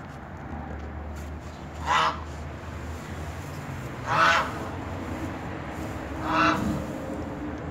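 Three separate goose honks at a farm, spaced about two seconds apart, moderately loud above a steady outdoor background hum with no talking.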